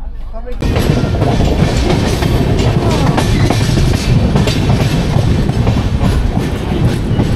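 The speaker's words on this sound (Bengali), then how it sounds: "বন্ধুরা আমাদের যে ট্রেনটা সেটা এখন মধুপুর ঢুকছে" A train approaching Madhupur station runs loudly with a steady roar and rhythmic clatter of wheels, close and continuous after a brief quiet start.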